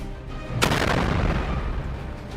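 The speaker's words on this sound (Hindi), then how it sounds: "जैसे ही हूती की मिसाइल जहाज के इस हिस्से पर लगती है, वैसे ही जहाज में जोरदार ब्लास्ट होता है" A missile strike on a ship in a news reconstruction: one sudden loud blast crashes in, then a dense roaring rumble of fire and debris rolls on and slowly fades.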